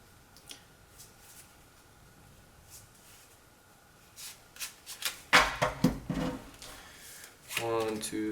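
Playing cards are handled, slid and sorted with soft rustles and flicks, then a brisk riffle near the end. A voice talks briefly over the handling.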